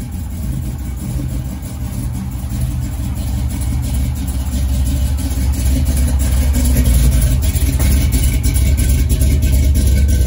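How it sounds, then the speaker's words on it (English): A 1987 Chevrolet Monte Carlo SS idles loudly with a deep, rough, continuous rumble that stays close and steady throughout, with no voices over it. "That's how loud this car is."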